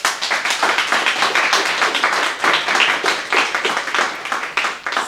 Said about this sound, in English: Let us all applaud her for her successful 6 months